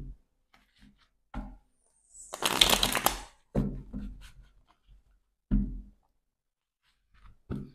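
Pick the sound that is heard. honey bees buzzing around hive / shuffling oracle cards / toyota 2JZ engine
shuffling oracle cards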